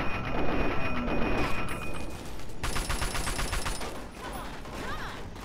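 Rapid gunfire in the video game Fallout: New Vegas, with dense bursts of shots that turn into a fast repeated volley partway through, loud and up close against steady background game noise.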